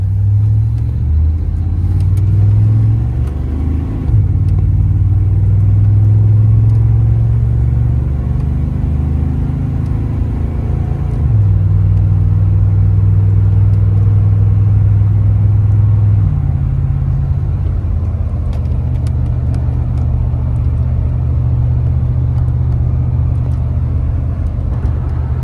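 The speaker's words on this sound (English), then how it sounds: "We're going to take this truck for a drive and see how it does." A classic truck engine rumbles continuously while driving, its pitch rising and dropping as it accelerates and shifts through the gears, close and loud with no talking.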